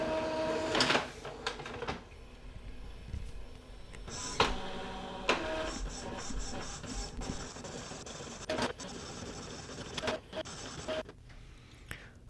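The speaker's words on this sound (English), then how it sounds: "Okay, the printer starts printing." An Epson EcoTank ET-2400 inkjet printer runs a print job, with quiet whirring feed motors, clicks and repeated sliding print-head passes, fairly close and moderately faint.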